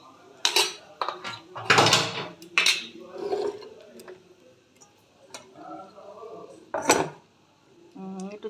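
Whole spices, star anise and cumin splutter and crackle in hot oil while tempering for a mixed vegetable curry, with sharp bursts of popping and clinking against the pan close by.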